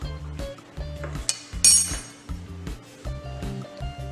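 A spoon clinks repeatedly against a bowl while a vegetable mixture of finely chopped capsicum and onion is stirred, the scrapes and chinks coming in a steady rhythm of bursts, close and fairly loud, with no talk.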